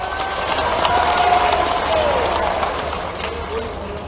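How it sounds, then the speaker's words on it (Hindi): Sustained applause from a large audience at a state-level panchayat secretaries' conference, a dense, steady clatter of many hands that stays fairly loud for the whole stretch. "वैसे आपने ताली इतनी बजा दी तो अगली बार के लिए भी रखना पड़ेगा।"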